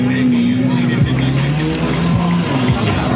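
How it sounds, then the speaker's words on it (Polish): A demolition derby rally car at an event in Biała Podlaska struggles to start, then reverses with a loud, steady engine drone and shifting revs, while a commentator talks over it throughout. "O, Cunta startuje do tyłu"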